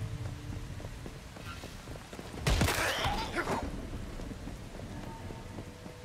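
Steady rain falls throughout a storm scene in a post-apocalyptic video game, with a loud thunder crack and rumble bursting in midway before fading back under the constant downpour.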